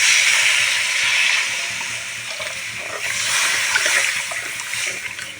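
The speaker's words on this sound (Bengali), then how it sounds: "আমি এখন দিয়ে দেবো জল।" Water poured into a hot pan of fried spices while cooking a tilapia curry gives a loud rushing hiss and sizzle, close up, easing off and then swelling again, with no talk.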